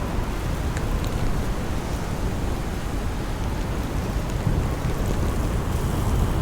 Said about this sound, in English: Why is this wind not stopping?